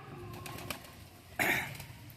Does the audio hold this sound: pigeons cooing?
yes